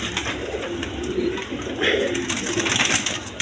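Caged pigeons, a male and female pair, coo softly and repeatedly at close range over a rustling background.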